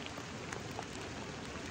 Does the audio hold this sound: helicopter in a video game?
no